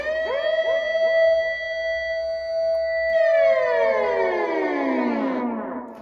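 Dub siren synth in straight up mode: a loud electronic wail repeatedly sweeping up and down in pitch, then a long swooping glide that decays downward near the end, with no voices.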